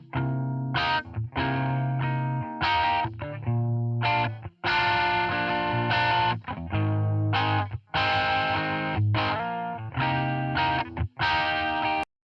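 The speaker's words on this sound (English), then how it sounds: "you have a very simple rhythmic guitar. It has a little bit of distortion, it's really bright," Bright electric guitar with a touch of distortion plays a simple rhythmic part, choppy strummed chords in short bursts separated by brief gaps, clean and upfront with no voices.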